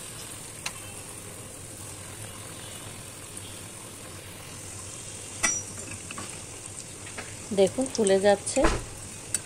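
Donut dough fries in hot oil with a steady, moderate sizzle that runs throughout. Someone speaks briefly near the end.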